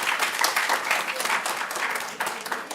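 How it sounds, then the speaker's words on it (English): Lecture audience applauding a speaker in a hall, a steady, fairly loud patter of many hands clapping that tapers off slightly near the end. "Another round of applause."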